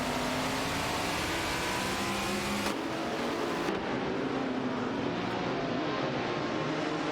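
A Ferrari 312 PB and a Renault Alpine A442B race in a video game, their engines giving a continuous loud roar that drops abruptly partway through and then carries on.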